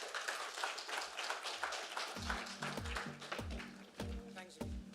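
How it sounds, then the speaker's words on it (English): Audience applause for a chief speaker at an Airtel Africa corporate event, a steady mid-distance clatter of many hands lasting throughout, joined partway by rhythmic low thumps of music. "let's give this amazing man a round of applause"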